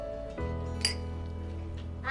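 Glasses clink together once in a celebratory toast, a single bright, sharp chime near the start that rings over a steady low background hum, with a fainter clink close to the end.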